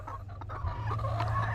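Pet chickens cluck softly nearby in a low continuous murmur of short throaty notes, with a few sharper calls rising over a steady hum.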